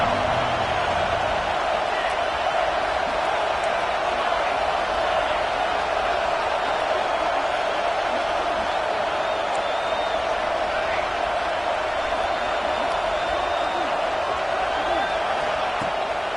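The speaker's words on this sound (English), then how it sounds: "Decibels rising as the crowd gets behind this defense on third down" Football stadium crowd roaring steadily on a third down, a dense continuous wall of cheering and noise that stays loud throughout.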